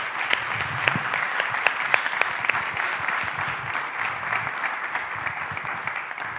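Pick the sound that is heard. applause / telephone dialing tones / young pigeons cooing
applause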